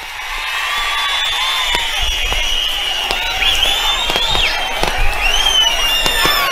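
Large crowd at a Telugu political rally cheering and clapping loudly and steadily throughout, a dense continuous roar with whistles and shouts and no pauses.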